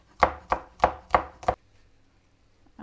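A knife slices spring onions on a cutting board with five crisp, evenly spaced chops about a third of a second apart. The cuts are close and clear, then quiet follows.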